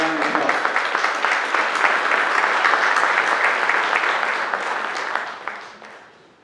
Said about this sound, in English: Let's give all our candidates a round of applause.